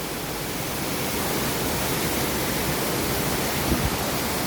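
A waterfall at Mother Falls roars in a steady, dense wash of noise that fills the whole span without pause, heard from a short distance.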